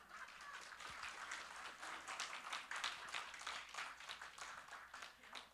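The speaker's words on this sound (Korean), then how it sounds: "우리 스스로 옆에 사람하고 박수로 한번 격려해 주십시오." A church congregation applauds together, a dense, steady patter of many hands clapping at moderate distance, sustained without pause throughout.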